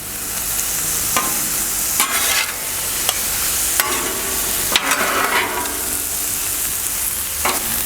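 Seasoned steak for spicy street tacos sizzling loudly on a Blackstone griddle while being worked around, with a constant hiss broken by sharp scraping spatula strokes at irregular intervals.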